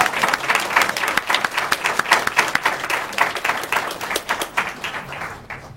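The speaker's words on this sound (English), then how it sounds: "if we could give them a big round of applause" An evening audience applauds art contest winners, with many hands clapping in a lively, uneven burst that swells and then thins out toward the end.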